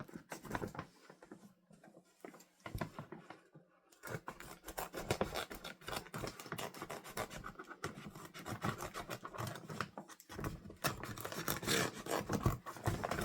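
Scissors trim Christmas-print fabric decorated with gnomes and Season's Greetings lettering, producing close, rapid runs of crisp snipping and rasping cuts. There is a brief quieter pause early on before steady cutting resumes.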